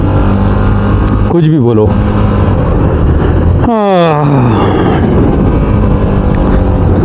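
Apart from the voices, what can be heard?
Hero Xpulse Pro motorcycle engine running uphill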